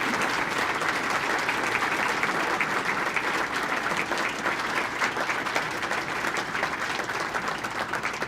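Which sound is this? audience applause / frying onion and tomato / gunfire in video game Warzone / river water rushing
audience applause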